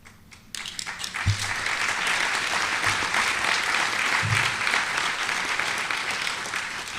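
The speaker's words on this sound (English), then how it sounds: "I pause for that applause" An audience applauds a speech by an attorney general, a dense sustained round of clapping that swells in quickly after a brief quiet start and holds steady, with a few low thumps beneath.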